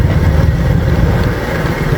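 A motorcycle engine idles steadily up close, a loud, low, continuous rumble with no change in pace and no voices.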